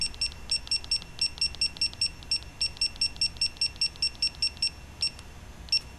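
A digital torque wrench beeps while torquing bolts on a forged SR20DET engine for an S14 240SX: about eighteen short, evenly spaced beeps in quick succession, a brief pause, then one final beep, close and clear.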